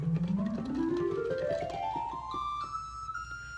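Flute-toned pipes of a single rank on a 1970 Nowak Company church pipe organ, sounded as a rising run from the lowest note up to the highest, steady and clear with room reverberation.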